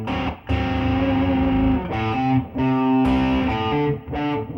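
Distorted electric guitar working slowly through a chord-and-slide passage, sustained chords broken by short gaps and fresh attacks in a loose, deliberate rhythm.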